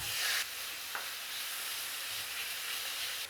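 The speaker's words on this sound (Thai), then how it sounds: "แล้วก็ผัดเนื้อค่ะ ทุกคนกระทะใบเดิมเกดไม่ใส่น้ำมันนะคะ" Beef being stir-fried in a pan with no oil gives a soft, steady hiss and sizzle at low level, with a brief stronger burst at the start and no speech.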